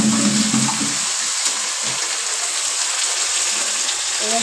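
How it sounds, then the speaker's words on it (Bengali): Chopped onion, garlic, chili, tomato and capsicum sizzle loudly in hot oil while being stirred in a pan, a dense, steady frying hiss with scraping and a few faint clinks. "এবার ভালো করে তেলে একটু নেড়ে নেবো।"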